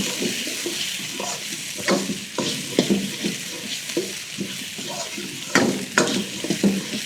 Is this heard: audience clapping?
no